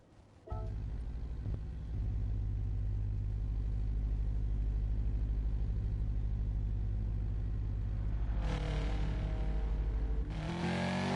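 Racing cars on track in Gran Turismo Sport during a Grand Touring league round, a deep, continuous engine rumble close by that holds steady before rising engine roars surge in near the end.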